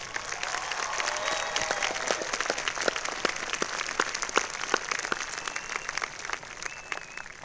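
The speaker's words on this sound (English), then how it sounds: "Please join me in a round of applause for our master's degree students." An audience at a spring commencement ceremony applauds steadily, dense overlapping claps filling the room at an even level throughout.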